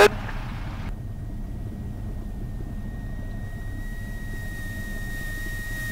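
Steady droning engine of a Cessna 172SP in flight heard from inside the cabin, a constant dense rumble with a faint whine, continuous and loud throughout.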